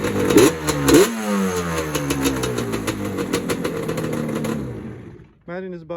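A Yamaha Banshee 350 motorcycle engine blips sharply in two quick revs near the start, then its buzzing drone winds down and fades, followed by a brief voice.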